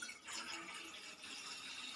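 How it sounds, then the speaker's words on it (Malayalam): Milk mixed with a little water is poured into a pan on the stove, a faint, steady liquid trickle and splash lasting a couple of seconds, with no talk. "1 കപ്പ് പാൽ ഒഴിച്ചു കൊടുക്കുക."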